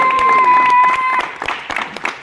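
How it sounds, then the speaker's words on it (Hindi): Applause for an associate director at a live stage drama show. A crowd claps in steady bursts, with a tonal whistle or music note held through the first half and voices mixed in. "वहीद अहमद साहब के लिए बहुत सारी तालियां,"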